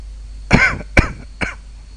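Three sharp coughs from one person, close by, the first longest and the next two shorter, with brief quiet gaps between them.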